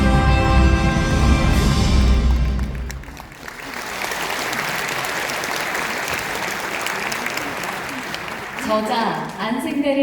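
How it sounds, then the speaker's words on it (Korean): An indoor audience at a political book event in Pohang claps loudly and steadily for the full span, starting dense and full before settling into a sustained, slightly thinner round of applause. "여러분께서 박수를 보내주셨습니다"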